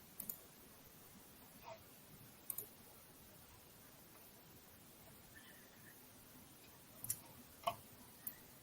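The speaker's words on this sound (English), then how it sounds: "Oh, you got the clickety clack cool kid keyboard. I can hear it all the way over here." Faint clicks from a mechanical keyboard: a few sparse, sharp taps scattered through a quiet background, some in quick pairs, distant and soft.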